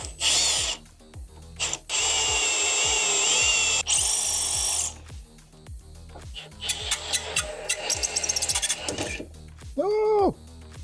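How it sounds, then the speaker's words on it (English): A power drill bores out a stuck part on a budget espresso machine during a rebuild, in several loud, close bursts of whining motor and grinding bit separated by short pauses, with a ratcheting clatter in between. "I guess I'll need to drill it out."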